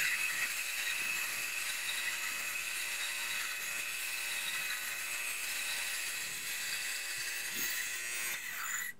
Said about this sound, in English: You always want to keep the shaver moving throughout the shirt or